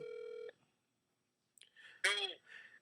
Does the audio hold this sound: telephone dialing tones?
yes